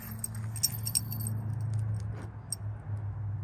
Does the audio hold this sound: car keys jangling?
yes